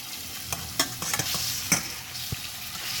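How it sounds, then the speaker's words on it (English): Salmon fillet frying in a hot pan on a raised stove burner, a steady close sizzle with a few sharp clicks and scrapes as the fish is moved, no talking. "I turned up the stove a little higher because I do want my salmon to get like a little color on it"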